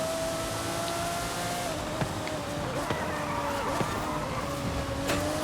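A 1997 Lamborghini Diablo in the Forza Horizon 5 video game, its engine holding a steady drone with slight pitch shifts and a few faint clicks, under a continuous, even wash of noise.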